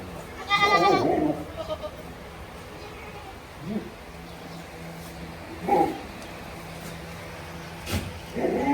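A goat bleats several times from close by, with a strong cry near the start and shorter bleats afterward over faint farmyard background noise, as a breeder billy goat is separated from other goats.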